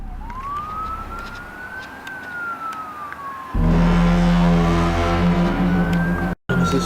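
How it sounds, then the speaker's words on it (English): A police siren wails in a slow rising and falling sweep across a city, fairly near, then a louder burst of heavy traffic and emergency vehicle noise joins in partway through. "Police sirens and cop cars could be heard riding all around as panic breaks out in the city."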